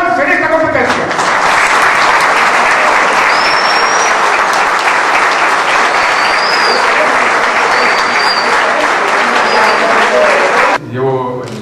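Loud, dense applause from an audience honoring Peruvian Dakar 2012 rally drivers, sustained evenly for about ten seconds before cutting off abruptly, with a brief snatch of voice at the very end.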